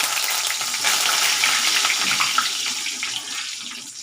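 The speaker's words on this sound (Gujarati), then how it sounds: "હવે આપણે મીઠું લીંબુ તળી નાખીશું।" Salted lemon fries in hot oil for farali chevdo, a loud, continuous close sizzle with bubbling crackle throughout and no voices.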